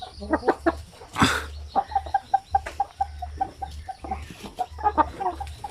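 A Basilan rooster clucking in a steady string of short, close calls, with one louder squawk near the start, no talk over it.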